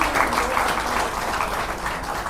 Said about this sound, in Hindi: आप तालियां बजाएं